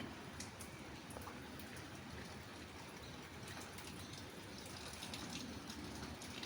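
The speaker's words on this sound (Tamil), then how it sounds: "இதுக்கு தேவையான தண்ணி நம்ம ஊற்ற போகிறோம்" Water poured into a pan of banana flower kootu, a steady, continuous splashing gush that runs for several seconds at a fairly even level, with no talking over it.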